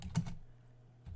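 Computer keys are typed in a short burst of clicks while a command is entered at the Windows Command Prompt to partition a USB flash drive, fairly quiet and close, with no talk.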